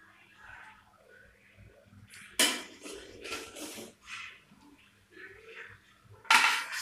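Chicken biryani is served out of a pot with intermittent scraping and clinking of a metal spoon against the vessel, a few louder knocks among soft rustling, close by.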